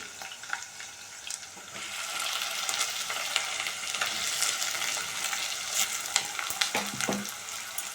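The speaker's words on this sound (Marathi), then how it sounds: "कांदा आपण चांगला परतून घेऊया" Onions sizzle and fry steadily in a hot pan with curry leaves, garlic and chillies as the base for Maharashtrian misal, a continuous crackling hiss with occasional stirring clinks, no talking.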